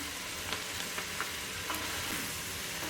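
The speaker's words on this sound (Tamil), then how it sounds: "இதில் புதினாவை போட்டுக்கிறேன். வதங்கட்டும் இதெல்லாம் மொத்தமாக." Mint leaves and green chillies sauté in a pan for vegetable brinji, giving a soft continuous sizzle with faint stirring scrapes, quiet and alone.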